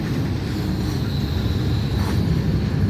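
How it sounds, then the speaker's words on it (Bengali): A freight train rolls toward Bandel Junction through thick fog, producing a steady deep rumble and rolling roar with a faint tonal whine above it. "আপ মালগাড়িটি ঘন কুয়াশার মধ্য দিয়ে ব্যান্ডেল রেলওয়ে জাংশন অভিমুখে যাচ্ছে"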